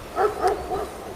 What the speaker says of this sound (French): vous entendez même les chiens des voisins qui aboient